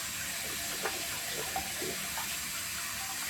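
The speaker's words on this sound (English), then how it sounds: "finish off with some cold water." Cold water runs steadily from a household tap into a sink for rinsing after a shave, a constant close splash and hiss with no talk.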